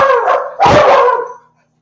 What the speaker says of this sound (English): Why are you barking?